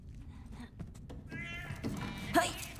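A cat in The Last of Us: Left Behind lets out a sharp, fairly close meow after a few soft knocks and rustles, with a brief strained cry near the end.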